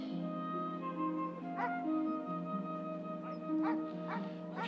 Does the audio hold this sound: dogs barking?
yes